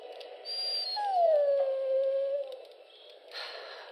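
A dog in the Dragon Age: Origins video game lets out a single drawn-out, falling whine lasting about a second and a half, clear and alone against a quiet game backdrop.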